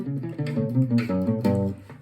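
A gypsy jazz guitar plays a short enclosure lick, a quick run of plucked single notes circling a target tone, close and fairly soft with no voices.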